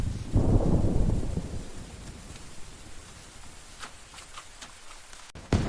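Rain falls steadily with a deep rolling thunder rumble near the start that fades into a soft hiss of rainfall and a few scattered drops, with no voices.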